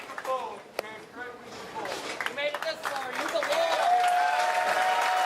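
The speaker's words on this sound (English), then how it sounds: "Yeah, the crowd recognizing the tremendous week here from Landon Jordan." A crowd applauds at a PBA bowling tournament, the clapping swelling and holding steady under a commentator's voice, with cheers rising toward the end.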